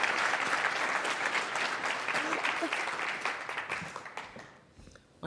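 Conference audience at a finance summit fireside chat applauds to welcome speakers, a dense sustained wash of clapping that fades toward the end.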